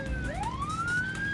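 Police siren from the Midtown Madness driving game, a single loud wail sweeping upward in pitch over a steady low engine rumble, close and continuous with no talking.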